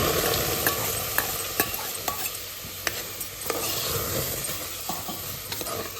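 Cooked, mashed toor dal is stirred into rice for kadamba sadam, with a spoon scraping and tapping the pot in a steady rhythm over a soft hiss.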